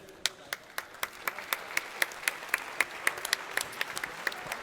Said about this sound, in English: So a big round of applause to Race Spot TV